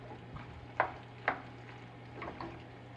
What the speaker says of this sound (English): We're gonna give this a stir and mix it in with our noodles